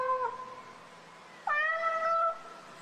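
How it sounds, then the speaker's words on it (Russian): A cat meows twice close by, a short mew followed by a longer, drawn-out meow, against a quiet background. "Кошка."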